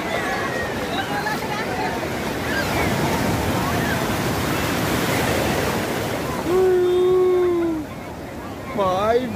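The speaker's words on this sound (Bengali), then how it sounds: "ভাই বিরাট বড় ঢেউ আসছে" Big sea waves roll and crash at Digha beach, a loud, continuous surf roar with wind buffeting close to the microphone and a few brief faint voices near the end.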